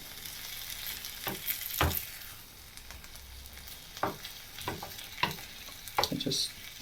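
Cabbage and sausage fry in a pan with little oil, giving a continuous sizzle broken by scattered clacks and scrapes of stirring, close and moderately loud.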